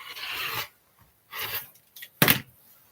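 Scissors or a rotary cutter trimming fabric for a quilt-as-you-go pouch: three short rasping cuts with pauses between, the last one sharper and louder, heard close with no talking.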